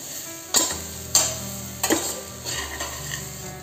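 A spoon stirs soya chunks through a thick masala in a pot for a soya chunk biryani, giving three distinct scraping strokes near the mic and then a low quiet sizzle, with no voices.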